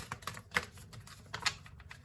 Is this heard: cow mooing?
no